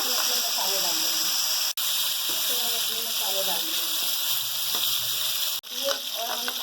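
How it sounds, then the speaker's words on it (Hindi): Stuffed arvi (taro root) fries in hot oil with a loud, steady sizzle and crackle that runs throughout, with a voice talking over it and two brief dropouts. "थोड़ी सी फ्राई हो जाएगी फिर हम इसमें अपने मसाले डाल देंगे।"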